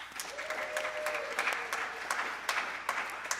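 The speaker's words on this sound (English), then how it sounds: "give yourselves a round of applause" A church congregation claps in a light, steady round of applause, moderately distant and soft, with no talk over it.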